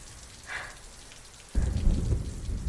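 Storm sound effect for an audio drama: a soft wash of rain with a faint higher gust early on, then a sudden loud roll of thunder and heavy rain from about halfway, rumbling on to the end with no voices.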